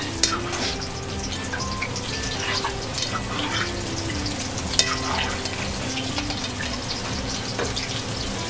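Zucchini and eggplant frying in oil in a restaurant kitchen, a steady bubbling sizzle with light crackles and occasional clinks, close and continuous with no talk.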